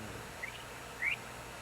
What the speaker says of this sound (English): Can you hear my birds chirping outside?